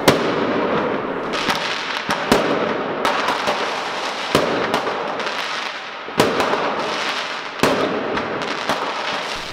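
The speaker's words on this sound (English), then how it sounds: "They set off fireworks." New Year's Eve fireworks in Germany crackle and bang continuously, with sharp nearby reports every second or two over a dense background of distant pops and fizzing.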